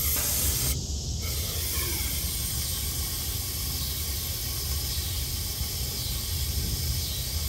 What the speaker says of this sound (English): I am going to fill that bottom hole up with brake clean.